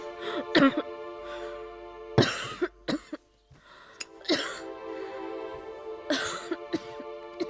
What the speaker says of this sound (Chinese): 姐姐咳嗽得如此厲害